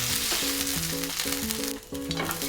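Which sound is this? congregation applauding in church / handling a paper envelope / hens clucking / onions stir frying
onions stir frying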